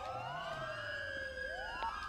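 Police car siren in a video game, a loud wailing tone sweeping up and down continuously, with a second overlapping siren and engine rumble beneath.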